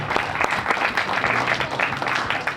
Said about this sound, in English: Give yourselves a hand for coming here and putting in the work.